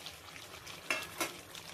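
Potatoes tumble into a hot pan of oil for a chicken dish, giving a soft, steady sizzle with two sharper scraping stirs partway through, fairly quiet and with no voices.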